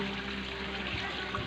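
Hot spring water runs from a shower, a steady broadband hiss and splash that stays even and close throughout, with a faint low hum beneath and no talking.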